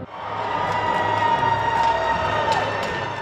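A full section of hockey fans cheering inside the BG Ice Arena during a college game against BGSU, a steady roar of crowd noise filling the rink, with a sustained tonal horn or organ-like note running through it.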